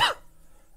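A single short, sharp cough from a person, close and loud, fading quickly into a quiet room.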